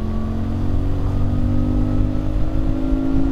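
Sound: CFMoto 450MT motorcycle accelerating from 80 to 100 in sixth gear

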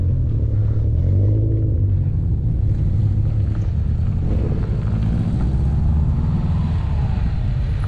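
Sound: Subaru Impreza engine revving

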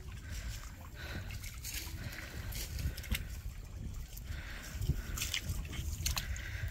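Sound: floodwater draining out along a street

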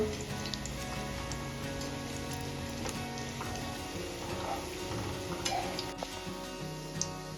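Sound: onion potato bhaji deep frying in oil

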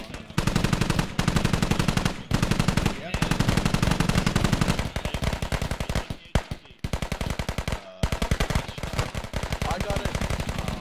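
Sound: NSV heavy machine gun firing in a video game

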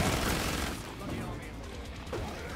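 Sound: gunfire in a zombie video game

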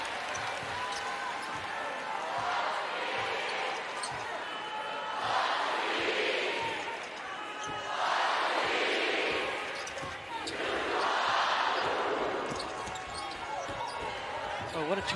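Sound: sellout crowd noise at basketball game

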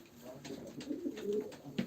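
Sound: pigeons cooing at a pigeon auction

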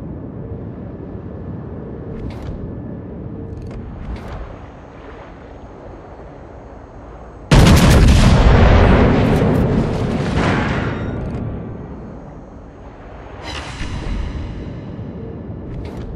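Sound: warship artillery fire in video game World of Warships

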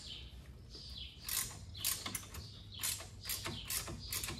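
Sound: ratcheting wrench working on a Yamaha YXZ-1000R suspension

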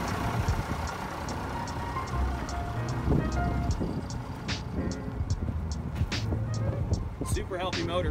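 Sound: 1991 AM General M939 5-ton truck engine running

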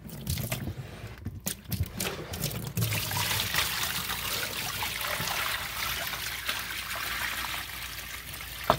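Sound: water draining down in a sink

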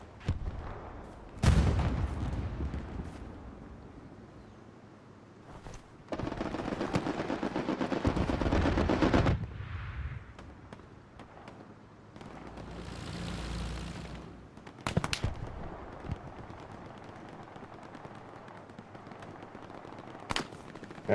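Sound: strafing run gunfire in Hell Let Loose video game

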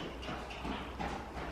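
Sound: horse hooves clip-clopping

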